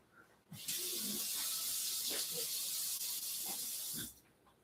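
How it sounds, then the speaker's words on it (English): Vegetables sweating in a hot pan give a loud, steady sizzling hiss that starts abruptly and runs for about three and a half seconds before cutting off, with faint clinks underneath. "I'm going to sweat my other veggies here"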